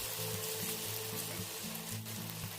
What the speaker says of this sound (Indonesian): masukkan 1 centong adonan ke dalam minyak panas